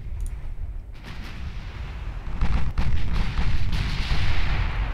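Warship guns firing during a naval battle in the Tyrrhenian Sea in Ultimate Admiral Dreadnoughts, heavy booming rumble that swells and stays loud, with sharp cracks layered over a dense roar.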